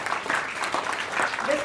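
An audience at an award ceremony gives a burst of steady applause for prize-winning schools, with close, dense clapping throughout and a voice faintly audible near the end.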